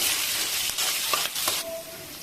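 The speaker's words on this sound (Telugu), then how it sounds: "ఆనియన్స్ అండ్ మిర్చి బాగా ఫ్రై చేసుకోవాలి" Onions and green chillies frying in a pan for masala aloo curry, a steady close sizzle and hiss with a few soft stirring scrapes and no talk.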